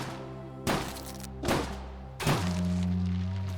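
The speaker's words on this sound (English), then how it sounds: "Now I'm gonna shoot one 5 times." Three heavy gunshots from a weapon in the video game Wicked Seed, spaced about a second apart, each a loud booming thump that trails off under a sustained game music drone.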